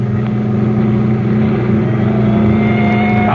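Car engine accelerating hard in a 1946 radio crime drama chase, a loud sustained drone with steady mid-range hum and a rising whine, no voices.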